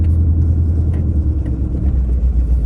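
A 1984 Chevrolet C30 crew cab truck with an SM465 gearbox crawls in super-low first gear, a loud, steady, deep engine rumble heard up close.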